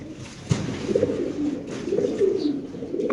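A Lahori pigeon with opal bar silver colouring coos softly in a few low, throaty rolling calls, close by against a faint background hum.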